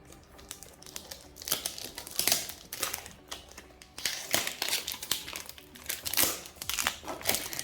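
A Dolce and Gabbana perfume box is opened up close, its cardboard and paper packaging crinkling, rustling and crackling in uneven bursts for several seconds with brief pauses between, no speech over it.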